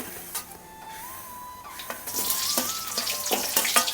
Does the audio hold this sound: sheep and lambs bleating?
no